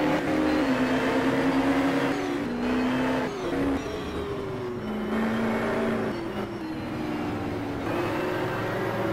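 1985 New Zealand touring race car engine revving hard out of the final corner at Wigram, with gear changes and pitch swings as it accelerates, loud and close, other cars blending in behind.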